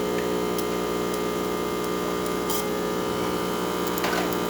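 A Rancilio espresso machine runs with a steady hum, pouring a stream of water; the sound is a constant, even drone with a few faint hissy bursts and no talking.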